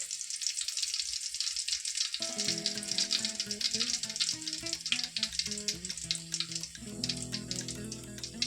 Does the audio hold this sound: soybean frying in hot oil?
yes